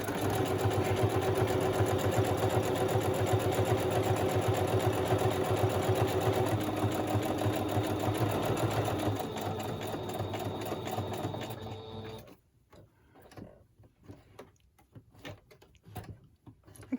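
Home sewing machine running fast on a tight zigzag stitch, a steady rapid mechanical ticking hum that carries loudly for about twelve seconds, then stops, leaving faint scattered clicks and handling noise.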